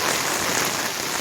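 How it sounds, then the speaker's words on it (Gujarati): Heavy, wind-driven rain pours down on a college campus in Gandhinagar, a dense, loud, continuous hiss of drops striking surfaces nearby. "અત્યારે ફૂલ વરસાદ છે, બહુ વધી ગયો છે વરસાદ।"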